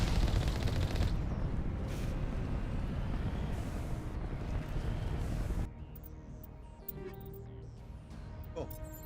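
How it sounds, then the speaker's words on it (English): Rapid automatic gunfire and bursts of shots in the video game Mass Effect, loud and dense for several seconds, then dropping to scattered, sharper shots over quieter background noise. "they're gonna start shooting"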